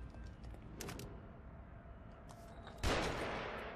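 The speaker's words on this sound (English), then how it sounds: "That's not a sniper, that's a shotgun." A single loud shotgun blast in the horror game The Evil Within rings out near the end, after quieter scattered game sounds.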